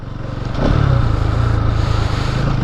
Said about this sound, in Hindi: जैसे ही गियर लो किया थ्रॉटल को ब्लिप किया